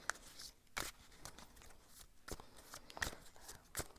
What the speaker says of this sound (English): I'm going to shuffle a bit more